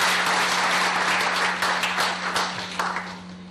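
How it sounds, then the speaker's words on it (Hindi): A crowd claps together to open a prize distribution ceremony, dense and loud at first, then thinning and fading over a few seconds. "एक बार ताली बजा करके आप अनुमति दें कि कार्यक्रम की शुभारंभ करें।"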